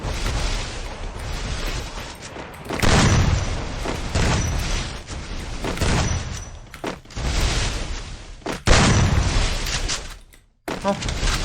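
Gunfire in the Free Fire battle game comes in repeated loud bursts and booms, broken by short lulls and a brief near-silent gap, with a voice heard at times.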